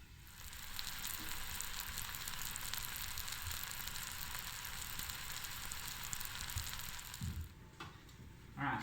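Wild turkey leg and thigh sear in a hot pan with a steady, soft sizzle that fills the whole stretch, plus a few light clinks near the end.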